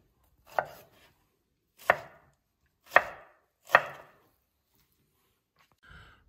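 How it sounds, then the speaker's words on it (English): A knife chops fresh pineapple into pieces on a cutting board: four distinct, evenly spaced thuds close by, followed by a fainter fifth knock, with quiet gaps and no talk. "then I take and cut two times like that, and then like this, and then we have our nice fresh pineapple pieces"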